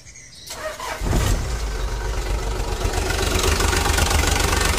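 Diesel engine of a Hino Dutro / Toyota Dyna truck cranking briefly, then catching and settling into a loud, steady, close idle with a rough knocking rhythm.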